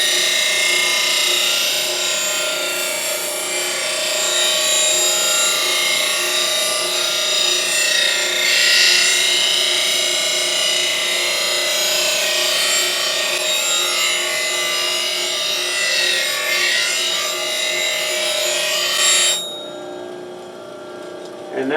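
Negative rake woodturning scraper slowly swept across a very fine grinding wheel, giving a steady, continuous high grinding hiss that holds nearly level throughout, then cuts off sharply near the end.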